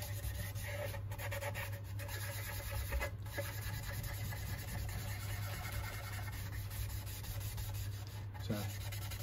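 Dry cloth rubbing over the stained wooden body of a Firebird guitar kit, a quiet steady scrubbing hiss over a constant low hum, with no voices.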